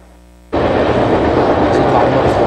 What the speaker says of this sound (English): It's our first train here today.